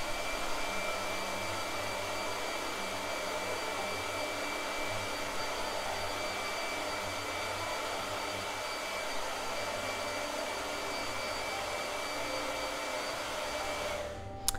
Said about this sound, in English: I need to blow dry.